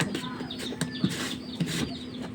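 Backyard chicks and hens make soft, high peeps and short clucks at close range, scattered across a couple of seconds with no talking.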